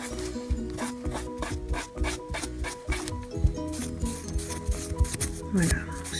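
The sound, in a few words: rubbing nails with nail polish remover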